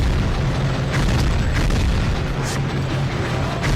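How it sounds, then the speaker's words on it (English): A demolition shot in the PS2 game Gungrave sets off a loud, continuous, booming explosive roar with heavy low rumble and scattered crackles throughout, no speech over it. "I'm going to do another demolition shot here just to clear these guys out"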